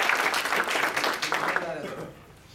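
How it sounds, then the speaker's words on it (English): An audience claps in a dense burst of applause that gradually tapers off, with voices murmuring underneath. "How about a round of applause for Ezra?"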